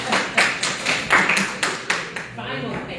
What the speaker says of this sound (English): We should give ourselves a round of applause for that